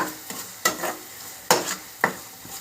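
Food is stirred while frying in a pan, with a spoon scraping and clinking against the metal in four or five separate strokes over a light, steady sizzle, heard up close with no voices.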